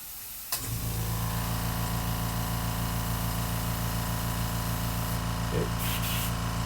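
A spray paint can hisses over a custom stencil in a studio: a sudden, steady, continuous spray that runs for several seconds at moderate level with a constant low hum underneath.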